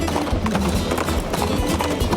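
Steady galloping hoofbeats of a horse in the video game Princess Peach: Showtime!, a fast continuous clip-clop rhythm running close and loud under a busy layer of game music.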